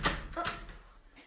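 A door bangs shut with a sharp thud, followed by a second knock of the door amid faint voices and room noise.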